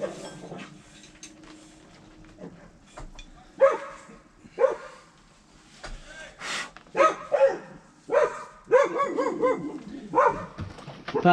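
A dog barks in short, sharp bursts, several times at irregular intervals, fairly close, over low background noise in a garage during a harmonic balancer install.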